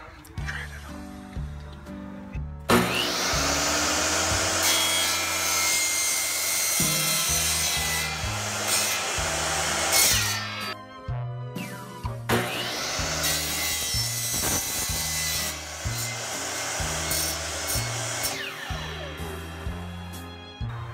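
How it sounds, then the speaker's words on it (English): Two long stretches of loud, rough sawing through PVC pipe for a costume's arms, close up, each running several seconds with brief pauses and faint voices between cuts. "He's gonna be helping me cut the PVC pipes for the arms"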